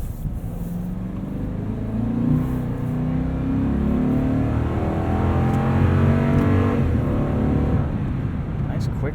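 2019 Toyota Tundra SR5 Double Cab with 5.7 liter V8 and automatic transmission, a steady low engine drone heard from inside the cab while cornering and downshifting, rising and falling gently, with some voice over it.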